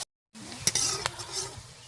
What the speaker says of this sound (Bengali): সরিষার তেল দিয়ে দিয়েছি, ফোড়নটা দিয়ে দিয়েছি তেলে। জিরে, শুকনো লঙ্কা আর কিছুটা পেঁয়াজ দিয়ে দিয়েছি বন্ধুরা। খুব সুন্দর করে ভেজে নেব।